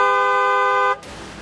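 A single long, steady car horn blast sounds loud and near, then cuts off abruptly into faint street noise.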